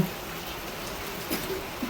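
Light drizzle patters steadily and softly on surfaces during a rainy spell in Siddhpur, a constant fine hiss with a few slightly louder drops, with no voices.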